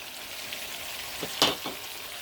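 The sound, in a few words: garlic, chili, onion and ginger paste frying for lamb curry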